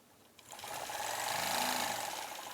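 A sewing machine stitches cross hatching on an embroidery quilt, starting after a brief quiet moment and then running as a steady, close, continuous whirring hum with no talking.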